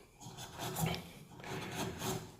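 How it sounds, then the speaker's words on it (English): A sharp, freshly honed chisel pares across the end grain of a piece of wood, giving two close, dry scraping strokes without speech. "you can actually cut end grain with it"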